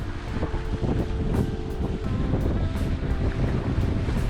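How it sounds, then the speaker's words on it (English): Strong wind and breaking waves while a sailboat runs on a starboard tack, a steady loud roar with wind buffeting the microphone and water rushing throughout, no voices. "The wind is strong and building."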